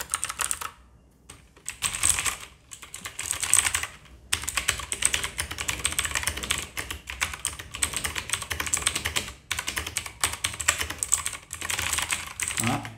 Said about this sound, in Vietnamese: Bây giờ mình sẽ test cho các bạn nghe tiếng gõ của hai em này.